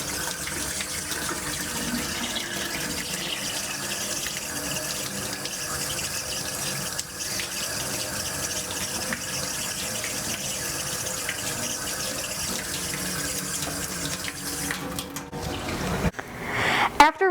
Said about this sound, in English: now what we're going to do is turn the water on